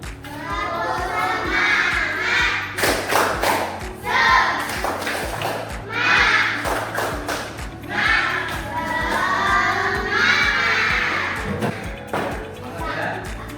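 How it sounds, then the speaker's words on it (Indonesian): Children in a classroom lesson do a rhythmic spirit clap chant, shouting the words together in loud bursts punctuated by sharp, synchronized claps in a repeating pattern. "Tepuk semangat dulu."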